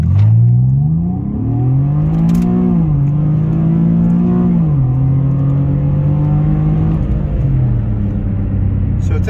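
Infiniti G37 accelerating hard from a dead stop, engine note climbing steadily through several gear shifts with brief dips between, loud and close from inside the car.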